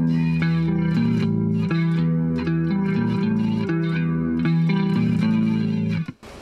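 An electric guitar, thick with distortion and chorus effects, plays an intro riff. The short note pattern repeats in a steady rhythm, loud and alone, and rings out at the end.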